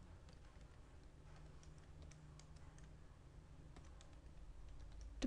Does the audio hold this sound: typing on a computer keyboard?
yes